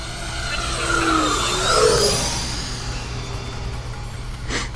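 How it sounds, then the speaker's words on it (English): FMS Super Scorpion 90mm RC jet making a high-speed pass: a ducted-fan whine rises, peaks and sweeps down in pitch as it flies by, then fades into a steady distant hum. "We can get a nice high-speed pass."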